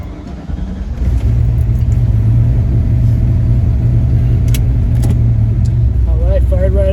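A turbocharged Ford Mustang engine cranks, fires up and settles into a loud, steady idle rumble close by, with brief talk toward the end.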